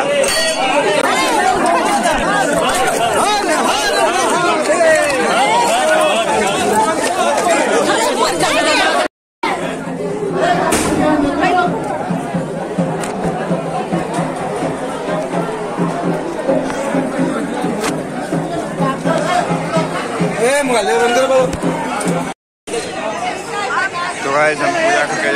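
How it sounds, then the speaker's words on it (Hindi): Thick crowd of pilgrims packed inside Baba Baidyanath temple in Deoghar, with continuous loud chatter from many voices, occasional clinks and footsteps mixed in, and two short gaps in the recording. "एक बार भीड़ देख सकते हैं गाइस मंदिर के अंदर,"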